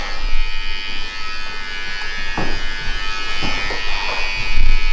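An electric hair clipper trims a beard in a self-cut shape-up, its steady close buzz humming throughout with slight shifts in tone as it moves along the face.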